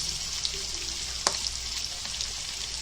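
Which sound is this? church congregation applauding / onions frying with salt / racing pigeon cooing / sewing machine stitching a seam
onions frying with salt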